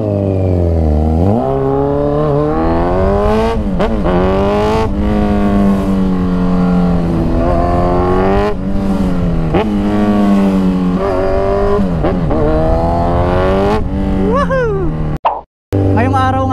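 A Kawasaki Z1000 R motorcycle with a loud exhaust, heard from the rider's position as the engine revs and climbs through gears, a loud, steady droning roar with rising and falling pitch that cuts out abruptly near the end.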